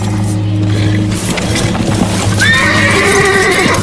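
Horses give a loud, close whinny that rises and wavers, with hoof clip-clop and a low, steady rumble underneath in a 1997 Robin Hood adventure scene.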